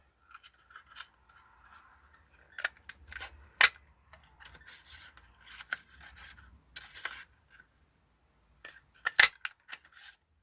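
Scissors snipping through paper to make bookmarks, in quiet, irregular bursts of short crisp cuts and rustling, close to the listener with no talking.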